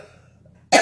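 A single short, sharp cough close by, sounding abruptly at the end after a near-silent pause.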